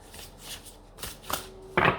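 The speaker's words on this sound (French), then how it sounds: "vous allez m'entendre battre les cartes pendant 3 ans" Playing cards being shuffled in a quiet room, a few soft riffling bursts that end in a louder, denser flutter, with a low steady hum underneath.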